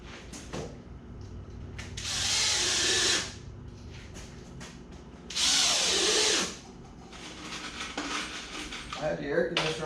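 A power drill drives screws into a wooden gate built from an adjustable gate frame kit, two loud whirring bursts of a couple of seconds each, separated by quieter handling clatter and background noise.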